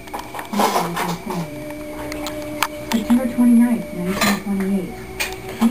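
Dishes, pots and cutlery clatter and clink as they are washed in a messy room, with irregular knocks and scrapes and voices talking in the background.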